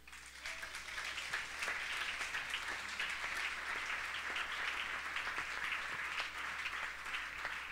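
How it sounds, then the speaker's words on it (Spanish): A church congregation breaks into sustained applause, many hands clapping in a continuous, fairly distant wash that swells early and stays even throughout, with no talking on top. "Dele ese aplauso al Señor."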